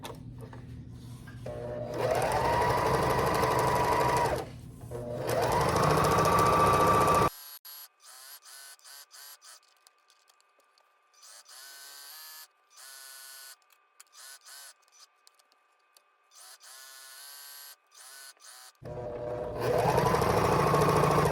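A sewing machine runs in long steady bursts while hemming silk edges, whirring loud and close, with a quieter middle stretch of soft ticks and clicks as the fabric is turned at a corner, then resuming.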